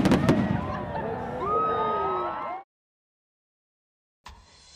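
Bonfire night fireworks display at a 2010 evening event, heard as a loud burst of bangs and crackling with whistling trails for a couple of seconds, then a sudden cut to silence before a short return of noise.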